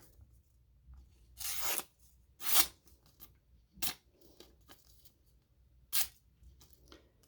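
A Benchmade Bugout folding knife slices through material in several short, crisp tearing strokes, irregularly spaced with quiet gaps between, close and fairly clear.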